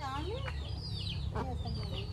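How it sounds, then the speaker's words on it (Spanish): Chickens cluck softly and intermittently in a farmyard, with a few short calls rising over a low background hum, fairly near and moderately quiet. "Anda la otra gallina."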